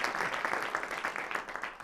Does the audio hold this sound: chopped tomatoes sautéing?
no